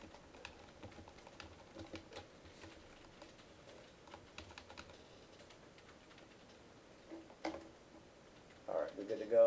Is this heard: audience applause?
no